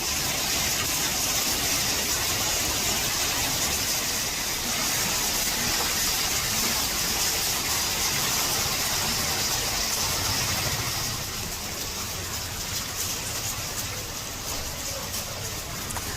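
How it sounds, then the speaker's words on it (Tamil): Heavy rain mixed with hailstones falls in Ooty in the Nilgiris, a dense, loud, continuous hiss and patter of drops and ice striking surfaces, easing slightly near the end. "பல்வேறு இடங்களில் ஆலங்கட்டி மழையும் பெய்தது"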